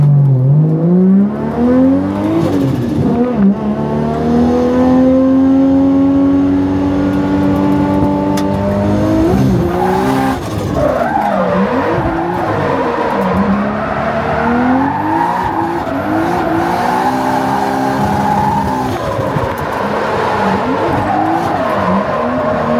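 A race car makes a timed run at a racing event in Japan, its engine loud and close, revving and shifting through rising and falling pitch with tire squeal as it corners.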